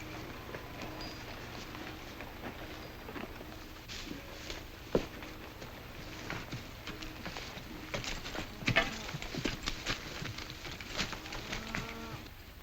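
Faint horse hooves clip-clop at a distance in a loose, uneven rhythm over a steady hiss of background noise.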